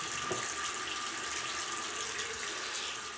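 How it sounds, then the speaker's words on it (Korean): Water runs in a bathroom with a steady, moderately quiet splashing flow like a tap or pipe, continuous and unaccompanied by voices. "가끔 화장실에 물소리 날 때 있어"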